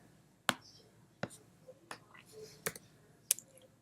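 Several sharp, isolated computer keyboard clicks, about six irregularly spaced taps, close and fairly quiet in a still room with no talking.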